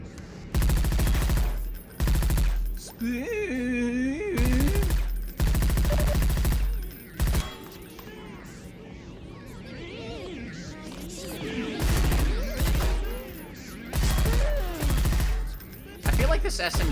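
Heavy automatic SMG fire in Half-Life 2 with workshop mods, loud stuttering bursts broken by pauses, with a voice talking in the quieter stretches.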